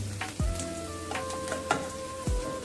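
Cumin and mustard seeds crackle quietly in hot oil for a drumstick-leaf vegetable dish, a soft sizzling hiss with scattered pops and a few clinks of a utensil against the pan.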